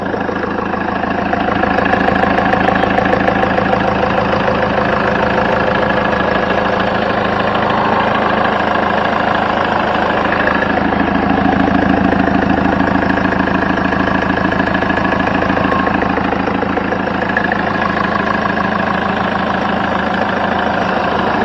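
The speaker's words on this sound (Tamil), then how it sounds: "அப்படியே வண்டியோட இன்ஜின் சவுண்ட் அப்படியே லைவாக கேளுங்க" A used Mahindra Scorpio SUV's engine idles steadily and continuously, a loud, close, even rumble with a faint knocking texture and no talk over it.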